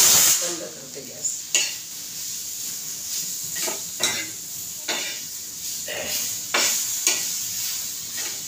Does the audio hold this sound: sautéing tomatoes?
yes